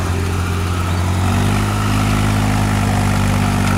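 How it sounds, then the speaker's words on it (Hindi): A tractor driving a 7-foot rotavator through soil runs with a loud, steady engine drone and deep harmonic hum, the tone shifting slightly as the load rises, close by with no talk. "साउंड भी काफ़ी ज़बरदस्त है रोटावेटर के"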